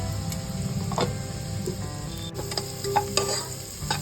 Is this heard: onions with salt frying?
yes